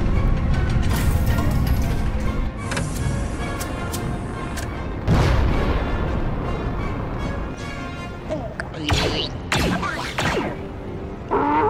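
Space combat in a Star Wars starship game: dense layered blasts, booms and mechanical clanking from cannons firing and the ship taking hits, loud and continuous with sharp impacts throughout.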